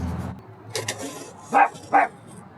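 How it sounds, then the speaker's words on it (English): A puppy gives two short, sharp barks close by, a moment apart, after some faint rustling during a Blu-ray collection unboxing. "That's right, puppy. Bark it up."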